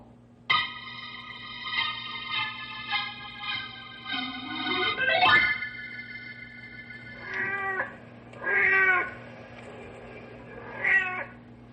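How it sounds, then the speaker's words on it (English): A tomcat yowls in long, drawn-out wails, then gives several shorter meows spaced a few seconds apart, close and loud, with a steady hum underneath. "The big tomcat you're hearing on the prowl"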